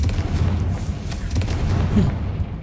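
A Confringo blasting spell explodes in Hogwarts Legacy, a dense, low booming rumble that rolls on steadily for a couple of seconds before trailing off.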